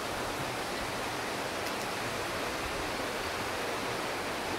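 A stream at an inland resort in the Philippines rushes continuously, a dense broadband wash of flowing water, steady and close with no voices.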